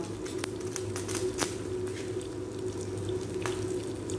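Faint crackles and sharp little pops scatter irregularly over a steady sizzling hiss as mustard seeds splutter in hot oil.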